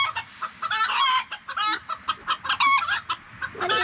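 Hens on a farm cluck and squawk in loud, busy bursts close by, with a rooster calling among them.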